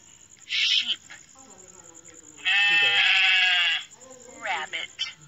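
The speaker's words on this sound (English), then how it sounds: "Sheep." A sheep in a kids' balloon pop educational game bleats in several bursts: a short cry, then a long sustained bleat, then a couple of shorter ones, loud and clear over a quiet background.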